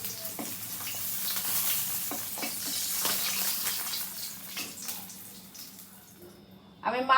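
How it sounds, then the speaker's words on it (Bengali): Rohu fish pieces fry in hot oil, a soft crackling sizzle with scattered pops that fades toward the end before a short louder clatter, and a voice speaks faintly over it. "আমি সব মাছগুলো লাল করে ভেজে নেব।"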